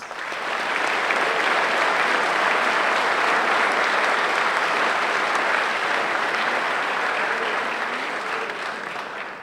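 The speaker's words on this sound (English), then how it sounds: "Please give them a round of applause." A crowd at a middle school graduation ceremony applauds in a sustained, dense wash of clapping for about nine seconds. The sound is loud and even throughout, with no talking, and it tapers off slightly at the end.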